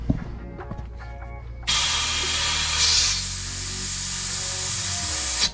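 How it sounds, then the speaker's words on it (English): Compressed air blasts through the water lines of a Yamaha jet boat during cold-weather winterization, starting abruptly as a loud, steady hiss that holds for several seconds after faint handling noises. "So just use some compressed air, and we'll do that right now."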